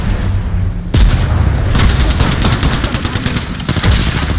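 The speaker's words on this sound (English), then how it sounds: "Grenade, grenade, grenade." In an Apex Legends match, a grenade explodes with a sharp boom, and then dense, rapid gunfire keeps rattling in bursts for several seconds, loud and close.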